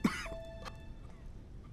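A woman coughs once sharply and close, then gives a fainter second cough, with quiet room tone afterward.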